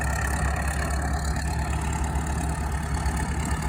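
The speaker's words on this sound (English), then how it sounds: "It's a D7 Caterpillar engine." An antique Caterpillar D7 dozer engine runs at a steady low rumble throughout, continuous and moderately distant, with no voices over it.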